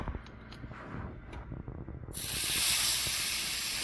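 A meat fat cap sears in a hot pan at home, starting as a low crackle and then erupting into a loud, steady sizzle with a sharp hiss up close.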